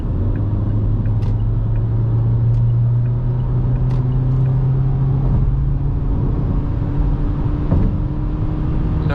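A Forthing T5 EVO 2024 car accelerating at night on a gently rolling road, its steady engine drone and road rumble rising slowly in pitch, heard from inside the cabin.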